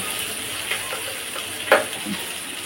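Whole cumin seeds, a dried red chilli, onion and garlic paste sizzling in hot oil as a tempering for lentils, a soft continuous crackle with one brief louder pop partway through.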